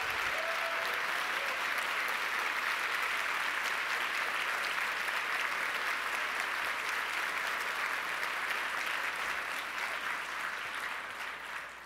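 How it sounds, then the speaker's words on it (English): A conference audience at an LGBT MBA event gives its organising team a long round of applause, dense and even clapping sustained at full volume before easing slightly at the end. "so let's give them a round of applause"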